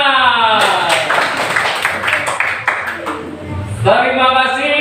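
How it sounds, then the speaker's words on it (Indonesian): A class of schoolchildren claps hands in a patterned rhythm of quick bursts, loud and close, with a teacher's voice speaking before and after. "Tepuk tangan."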